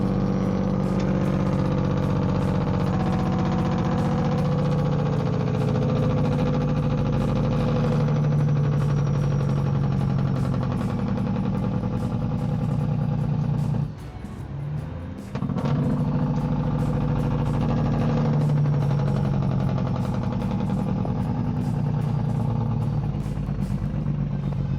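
A semi truck's engine heard from inside the cab while driving: a loud, steady, continuous drone that dips briefly midway before resuming at full strength, with no talking.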